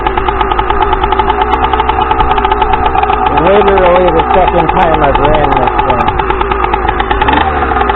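A Stihl MS460 chainsaw with a 54mm big-bore kit idles loudly and close up during break-in, its rough, steady engine chugging continuing throughout while someone talks over it.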